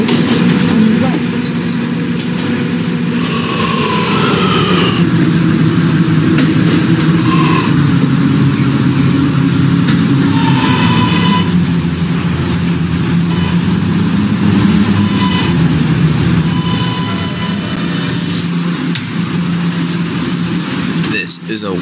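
Inside a moving R subway train, a loud steady rumble of motors and wheels runs throughout while an onboard announcement voice talks over it.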